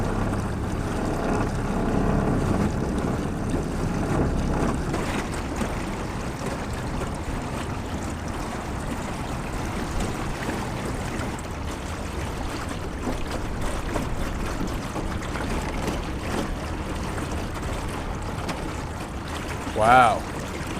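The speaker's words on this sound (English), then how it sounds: "I have the motor on full blast going downriver" Outboard motor on a fishing boat running at full throttle downriver against strong wind, a steady droning hum mixed with wind and water rush, continuous and fairly close.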